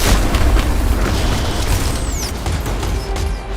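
A laser shot in the video game Aether & Iron lands as a loud boom-like burst, with a thin descending whistling sweep and scattered crackling pops over a low rumble.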